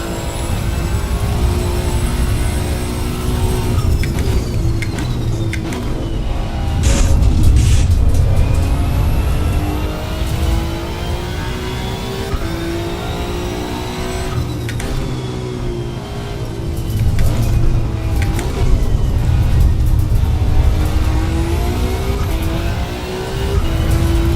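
A Mercedes AMG race car in the racing game Assetto Corsa EVO, its engine droning loud and steady throughout with rising and falling revs as it accelerates and shifts, tyre and wind noise underneath, no talk.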